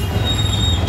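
Metro train at the Azad Nagar station, a brief steady rumble with a thin high wheel squeal running over it.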